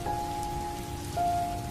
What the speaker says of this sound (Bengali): কিন্তু এমন সময় বাইরে আবার জোর বৃষ্টি শুরু হলো।